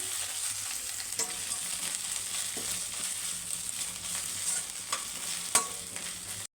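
Ginger garlic paste frying in hot oil in a pan for an egg fry, a steady bright sizzle running throughout with occasional stirring clinks and scrapes, close and alone with no voices.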